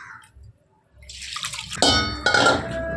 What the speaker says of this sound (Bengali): পরিষ্কার জল বেরোনো অবধি ধুয়ে নিলাম